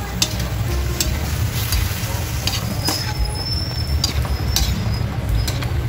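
Marinated pork and onion for pork menudo sizzle steadily in a pan, a loud, close, continuous frying hiss with occasional clicks of stirring and no talk.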